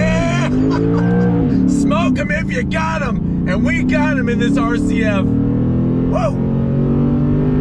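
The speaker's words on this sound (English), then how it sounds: "that sound of that V8 is just second to none" A 2021 Lexus RC F's V8 revs hard under acceleration, a loud, steady engine drone running the whole time beneath excited shouting and talk from inside the car.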